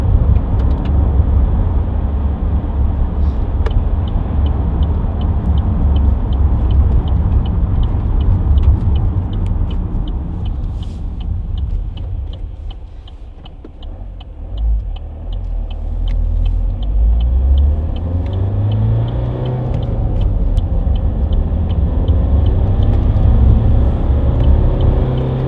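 A 2014 Vauxhall Astra 2.0 CDTi ecoFLEX cruises along a dual carriageway, its steady low engine drone and road rumble continuous throughout, dipping briefly midway before building again under faint ticking.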